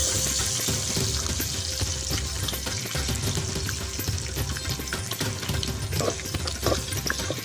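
Curry leaves and onions sizzle and crackle steadily in hot oil for a quail gravy, with a dense continuous fry and occasional stirring clinks, close up and without speech.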